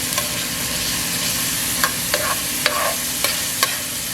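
Garlic thrown into a pan already frying peppers and onions, a continuous sizzle broken by several crisp clicks and scrapes of stirring, close and moderately loud.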